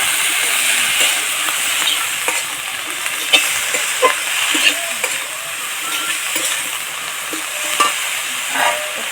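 Cabbage and potatoes sauté in hot oil for a Bengali cabbage curry, a steady sizzle broken by the repeated scrape and clink of a spatula stirring the pan.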